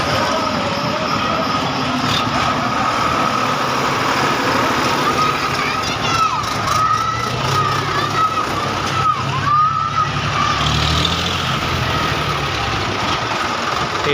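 Tractor engines run steadily at a Bonalu village festival in Suddala, Gundala mandal, a continuous low rumbling drone with faint background voices and crowd noise over it.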